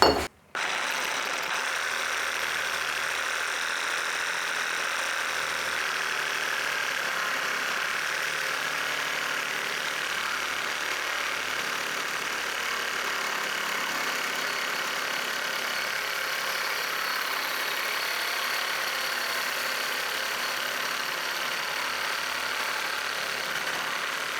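A FERM reciprocating saw cuts through a 2 mm thick metal tube, giving a loud, steady, harsh roar that runs unbroken for the whole stretch after a brief start.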